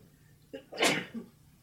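A single sharp sneeze, preceded by a brief quick inhale, close and fairly quiet, with no talking.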